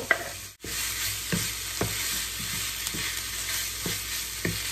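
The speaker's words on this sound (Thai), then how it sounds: "เราก็ผัดให้เข้ากัน ผัดไปเรื่อยๆจนกว่าเขาจะสุกนะคะ" Minced pork and pork skin for Tak-style larb stir-frying in oil over low heat, a soft steady sizzle broken by regular spatula scrapes and taps against the pan, close and moderately quiet with no talking.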